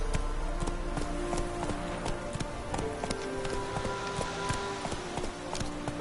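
Hooves of Roach, Geralt's horse in The Witcher 3, clip-clop steadily at a trot or canter over continuous game ambience and music, moderately loud with no one talking.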